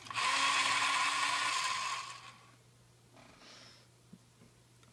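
A black drawing pencil being sharpened, giving about two seconds of close, loud grinding and scraping, followed by quieter faint handling sounds.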